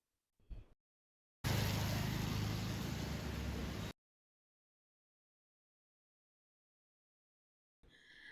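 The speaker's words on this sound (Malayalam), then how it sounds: "അപ്പം വാനിതാ വന്നുകൊണ്ടിരിക്കുന്നുണ്ട്" A van pulls up outside a house, a single close broadband engine and road roar lasting a few seconds before cutting off, surrounded by near silence with faint noises at the edges.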